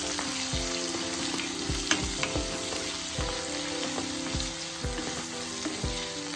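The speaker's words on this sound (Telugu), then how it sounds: "ఇప్పుడు కడాయి పెట్టి కొద్దిగా ఆయిల్ వేసి జీలకర్ర, దాల్చీని, ఇలాచీ, లవంగాలు, తరిగిన ఉల్లిపాయలు 1 కప్పు వేసి ఎర్రగా వేయించేసుకోవాలి" A cup of chopped onions frying in a kadai with a little oil, cumin, cinnamon, cardamom and cloves, a continuous soft sizzle with rhythmic scraping strokes of the spoon roughly every half second.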